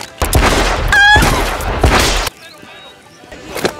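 Gunfire from an action film scene about two robbers: a dense, loud burst of shots and impacts over the first two seconds, then a quieter tail with faint scattered sounds.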